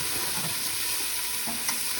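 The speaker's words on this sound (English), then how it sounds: "In a semi-preheated pot on maximum heat, we're going to add the diced onions." Diced onions fry in oil in a pot preheated on maximum heat, giving a steady close hiss of sizzling with faint stirring scrapes throughout.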